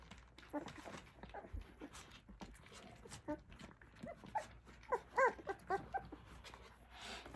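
XL Bully puppies having their first meal whimper, yip and make wet eating noises. The sounds are close, quiet and intermittent, and a person talks softly throughout.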